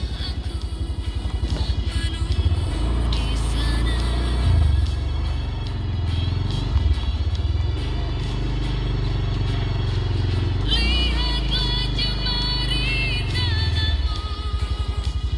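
A motorcycle engine rumbles and revs steadily up close while being parked at a hilltop lookout on Bukit Dewa Dewi, with faint crowd babble in the background.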